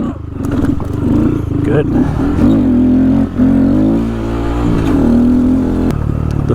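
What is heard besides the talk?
Honda Grom motorcycle popping a wheelie over a tree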